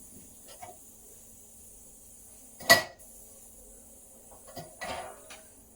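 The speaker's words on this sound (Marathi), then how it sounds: "आणि याच्यावरती आपण ठेवायचे झाकण" A steamer lid set down on a pot of batti dumplings in a home kitchen gives one clear metallic clatter, with a few faint clinks before and after in an otherwise quiet room.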